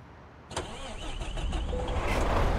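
A truck engine in Euro Truck Simulator 2 cranks and catches after a brief quiet moment, then settles into a low rumbling idle with a rising whine, close and clear with no talking.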